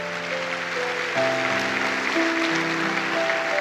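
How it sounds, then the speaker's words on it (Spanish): Applause from a church congregation during a Sunday morning service: a steady wash of clapping runs throughout, blended with sustained keyboard chords playing underneath, with no speech. "si le va a dar un aplauso al Señor por eso, hágalo"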